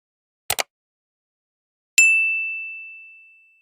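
A single bright notification bell ding rings out clearly and decays slowly over about a second and a half, following a brief pair of clicks, with no talking.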